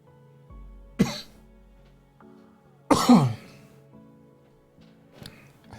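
A person coughs in two sharp, close bursts after swallowing saliva the wrong way, followed by a quieter throat-clearing sound, with light background sounds between them.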